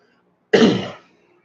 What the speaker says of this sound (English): Forgive me for the cough.